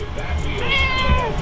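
A cat meows repeatedly at close range, its rising and falling calls sounding over a steady background hum, with a person talking alongside.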